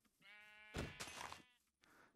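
A sheep bleats in the Minecraft video game, a few quiet, nasal, wavering cries in close succession, heard alone without talk.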